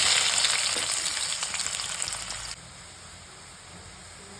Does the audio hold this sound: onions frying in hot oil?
yes